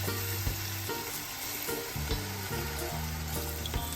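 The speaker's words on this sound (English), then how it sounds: "I'm gonna add a little bit of my coconut milk." Coconut milk hits a hot pan while parrot fish cooks and gives a steady, full sizzle with brief crackles, over a low rhythmic thumping tone throughout.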